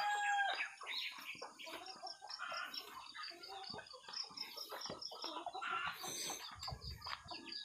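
Busy clucking from several chickens keeps going throughout, with scattered chirps and bird calls in an outdoor yard.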